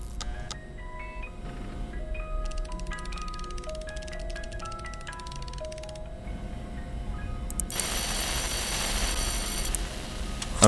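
An alarm in the Freddy and the Gang 2 video game plays as a string of bright electronic beeping tones in stepped patterns, ending in a harsher, louder buzzing burst near the end.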